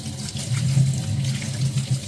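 Warm tap water runs steadily into a sink for rinsing a washing machine filter, a close, continuous splashing flow with no voices.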